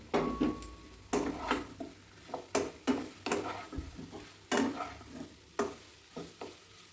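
Fried cauliflower tossed into spices in a pan, with a spatula scraping and knocking in repeated strokes over a soft sizzle underneath, close up, with no talking.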